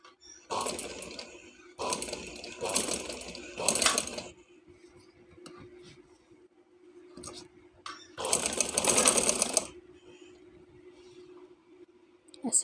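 Sewing machine stitching a trouser design, several rapid motor-driven bursts of stitching separated by pauses with quiet clicks and handling, a faint low hum underneath.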